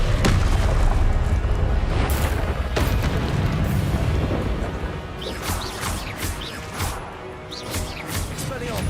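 Repeated Confringo spell blasts from the Hogwarts Legacy video game, loud booming explosions and crashes in dense succession, with sharp bursts recurring through a busy combat din and some voices mixed in.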